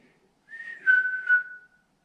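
A single short whistled phrase from a person in an abandoned farmhouse in the woods, a clear tone that holds and slides slightly, heard alone in quiet surroundings.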